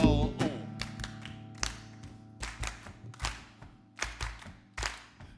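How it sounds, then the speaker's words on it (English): Hands clap along to a Christmas song in a slow, regular beat, about eight sharp claps spaced evenly over a sustained sung or played tone, moderately close. "it's clapping hand time"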